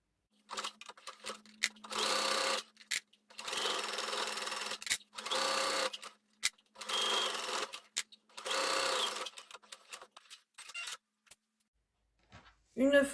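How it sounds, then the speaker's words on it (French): A sewing machine stitches fabric along a 1 cm seam in loud, steady whirring bursts of a second or two each, separated by short pauses, ending with a brief fumbling sound. "nous allons coudre à 1 cm tout le long du tissu"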